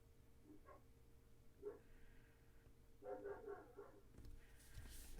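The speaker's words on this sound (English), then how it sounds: "sorry if you hear my neighbor's dog barking." A neighbor's dog barks outside in several short bursts, distant and muffled, over a steady low background hum.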